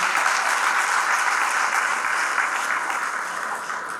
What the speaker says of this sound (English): A big round of applause for our leaders.